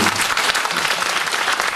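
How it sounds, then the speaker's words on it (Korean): A church congregation at a Korean family worship service breaks into a short burst of steady, full applause that fills the room. "박수 한번 쳐주세요."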